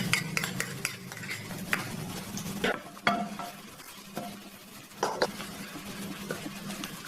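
Minced garlic, about 10 g, stirs and sizzles in roughly 60 ml of hot oil in a pan, with steady frying hiss under repeated scraping strokes and sharper utensil clinks against the pan, close and moderately loud, no talking.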